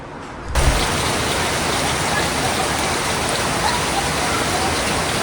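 After a brief quiet start, the season's first rain sets in and keeps pouring with an even, dense hiss.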